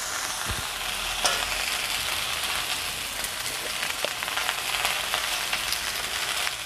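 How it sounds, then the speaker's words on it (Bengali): Okra fries in a pan with salt and turmeric, making a continuous dense sizzle with light crackle and a few soft stirring knocks, close and steady with no talking. "এরপরে লবণ হলুদ দিয়ে আমি ভালো করে এটা ঢাকা দিয়ে কষাবো"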